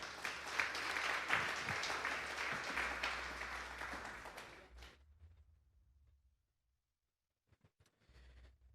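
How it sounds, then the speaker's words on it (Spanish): A church congregation claps during a Sunday service: loud, dense applause runs steadily for about five seconds, then fades to near silence with a few faint scattered sounds near the end. "Vamos a darle un fuerte aplauso pues al Señor"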